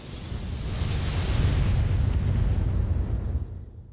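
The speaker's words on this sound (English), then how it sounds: "Stalker, firing 60 missiles" A Stalker mech in the BattleTech video game fires a 60-missile salvo, a sustained roaring rumble of overlapping launches and blasts that holds steady for several seconds before tapering off.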